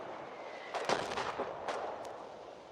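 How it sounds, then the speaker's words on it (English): Artillery fire in the war video game Foxhole, a cluster of muffled booms and cracks in quick succession over a steady background hiss, then a single fainter distant report. "Colonial artillery seems to have shifted its point of aim."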